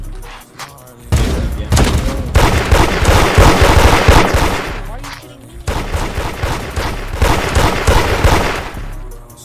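Rapid gunfire rattles through a video game raid, dense bursts of shots and booms coming close and loud in two long volleys split by a short lull, with voices mixed in.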